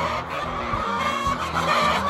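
Chickens, including a red-combed one, give low clucks and fowl calls in a noisy coop yard, close by and steady throughout, with other birds chattering in the background.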